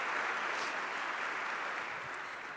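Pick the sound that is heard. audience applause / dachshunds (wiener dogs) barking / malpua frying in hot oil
audience applause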